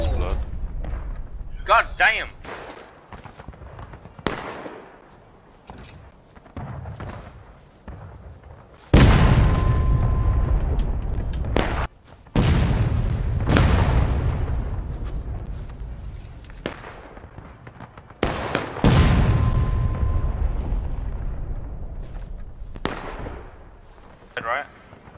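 Artillery cannons fire in the Civil War-era game War of Rights: several heavy booms with long rolling decay land at intervals over a bed of distant gunfire and battle noise, while players talk over it.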